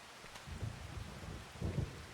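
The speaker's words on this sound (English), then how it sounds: "bit of thunder there, though." Low thunder rumbles twice in the Farming Simulator 25 video game on the Judith Plains, Montana map, a soft roll followed by a stronger one, faint and distant under a steady rain-like hiss.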